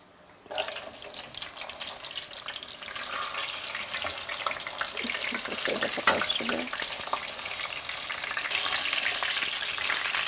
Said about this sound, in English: We're gonna take this out to rest and then fry up the next one.